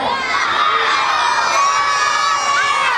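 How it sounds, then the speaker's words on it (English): A crowd of primary school children cheers and shouts loudly and continuously at a school event in Savanna-la-Mar, Westmoreland, with dense overlapping high voices and whoops. "Let's see if they're still cheering for Miss Popular"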